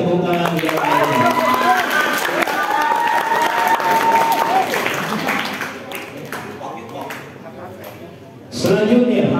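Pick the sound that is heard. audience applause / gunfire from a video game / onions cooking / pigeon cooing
audience applause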